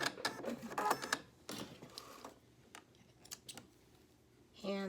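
A sewing machine stitches a polo shirt sleeve hem, with short mechanical bursts of rapid needle clatter separated by pauses for pivoting, fairly quiet and close.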